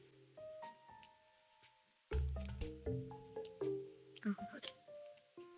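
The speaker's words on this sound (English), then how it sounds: "Pop it closed, and essentially this seals the phone from any water entering inside." A waterproof phone pouch is pressed closed and sealed, giving a soft squishing, crinkling press against a background of tonal music, with a louder burst of handling partway through.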